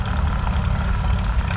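Steady low engine chug from a small Farmall H vintage tractor idling at a Korumburra tractor pull practice, close and unbroken, heard alone without voices.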